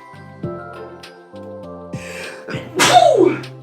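One sharp, loud sneeze near the end, from a character in a Doki Doki Literature Club scene, over soft steady background music.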